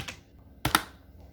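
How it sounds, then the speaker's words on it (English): Brief burst of keystrokes on a computer keyboard typing a yarn install command, a soft tap followed by two sharp close clacks in quick succession, then quiet. "To install the styled component with yarn, we type yarn add styled component"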